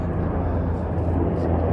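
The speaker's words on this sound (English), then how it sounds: "This is the third set of these copters like this that have come through." Low-flying military helicopters pass overhead, a loud, dense, continuous rotor and engine roar that fills the whole moment without letting up.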